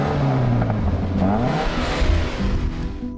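A 2013 Scion FR-S boxer engine revs up close and loud, its note climbing and falling in a continuous throaty rise with no talking.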